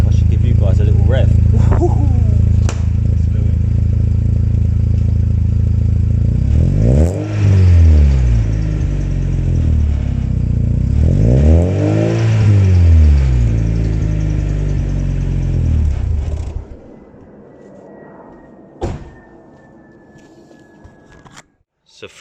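A VW Golf GTi 16v with a fresh exhaust idles, then is revved twice in two rising-and-falling surges before the engine shuts off, leaving quiet; a voice talks over the start.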